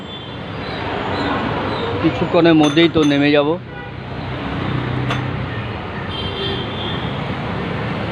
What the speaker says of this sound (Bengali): এই ট্রামটি আজ বিলুপ্ত পায় শেষবারের মতো মনে হয় এই ট্রামে চড়লাম